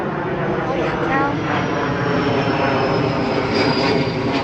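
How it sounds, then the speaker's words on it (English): A small propeller airplane circles overhead above a garden, its steady engine drone filling the whole stretch at a strong, even level without fading. "That was a little plane"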